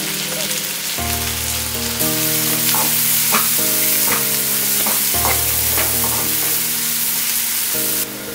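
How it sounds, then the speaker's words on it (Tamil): Chopped onion and spring onion frying in hot oil, a dense continuous sizzle with scraping stir strokes throughout, close and loud, over a low steady hum. "ஸ்ப்ரிங் ஆனியனும் வெங்காயமும் நல்லா வதக்கிடுச்சுங்க"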